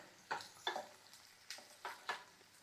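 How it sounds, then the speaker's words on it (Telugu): Bitter gourd pieces fry in a pan, with soft scattered sizzles and several distinct scraping stirs spaced across the clip, quiet and close with no talking. "వేసేసుకొని కొంచెం సేపు ఫ్రై చేద్దాం"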